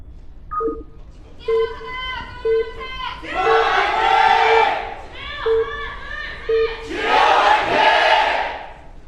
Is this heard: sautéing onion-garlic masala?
no